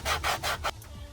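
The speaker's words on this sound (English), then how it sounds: "So we'll give it a quick sanding and shape it up." Four quick rasping strokes of sandpaper on wood in steady rhythm, close and fairly loud, followed by a short quiet pause.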